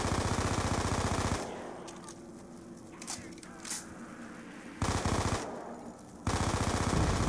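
Rapid automatic gunfire in the video game Black Ops 2, loud and continuous in bursts, with quieter gaps filled by game sounds and a faint voice between volleys.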